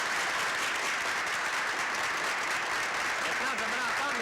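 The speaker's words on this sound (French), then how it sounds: "On peut l'applaudir." An audience applauds a parish priest after a conversation on stage, a sustained, even roll of many hands clapping, with a voice starting to speak near the end.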